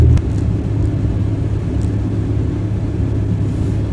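A manual 1988 Toyota MR2 AW11 drives along with a steady, close engine and road rumble that holds at one level throughout, with no clear break where the gears change.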